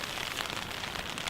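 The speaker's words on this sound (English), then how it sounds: "it's been raining all day." Steady rain falls on a Sarek mountain expedition camp, a dense, even hiss of countless drops pattering on a surface, moderately quiet and unbroken throughout with no voices.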